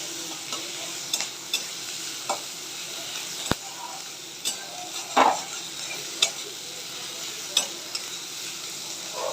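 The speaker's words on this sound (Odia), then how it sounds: "ପିଆଜକୁ ବର୍ତ୍ତମାନ ଫ୍ରାଏ କରିବା।" Onions frying in a pan, a steady close sizzle with a spoon stirring and tapping against the pan at scattered moments, no voices.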